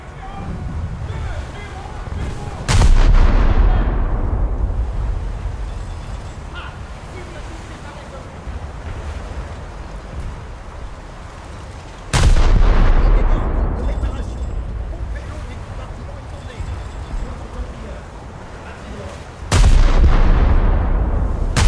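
Naval guns fire in the World of Warships game as three loud, sharp salvos spaced several seconds apart, each fading into a long rumbling tail over a bed of wind and sea noise.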